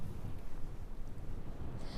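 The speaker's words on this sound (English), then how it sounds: "it is still incredibly windy" Strong wind blows across Galveston Beach, a steady broadband rush with low buffeting gusts on the microphone, continuous and fairly faint.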